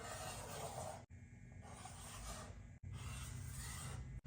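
Pen or pencil scratching rough draft lines onto a notepad, close and quiet: three long rasping strokes separated by brief lifts, with no talking.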